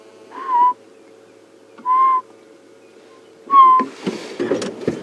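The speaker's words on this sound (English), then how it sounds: "that is a yellow-fronted tinker barbet" Three clear, whistled notes of a yellow-fronted tinkerbird spaced about a second and a half apart, each a short single tone, followed by rustling and handling noise.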